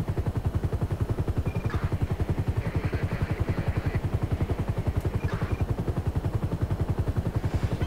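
A police helicopter flies in Grand Theft Auto 5, its rotor beating in a fast, steady, loud thump that pulses evenly throughout, with faint brief game sounds above it.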